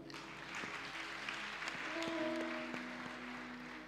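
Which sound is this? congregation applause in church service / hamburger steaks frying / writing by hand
congregation applause in church service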